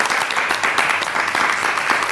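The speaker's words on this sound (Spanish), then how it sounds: "Un aplauso." Audience applause in a Spanish television interview studio, a dense, steady wash of many hands clapping at close range, continuous and fairly loud throughout with no speech over it.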